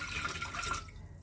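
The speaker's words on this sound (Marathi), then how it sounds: "कुकरमध्ये पाणी घालून घेऊया आधी" Water poured from a tap into a pressure cooker in a home kitchen while cooking a Maharashtrian vegetarian thali, a close, steady splashing rush for about a second before it cuts off.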